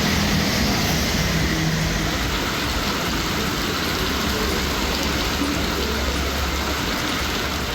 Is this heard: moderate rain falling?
yes